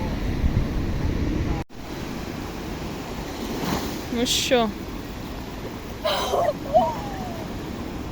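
Steady roar of sea waves washing on a beach at Alicante with wind, a short voice, and a few high squeaks or children's cries over the surf.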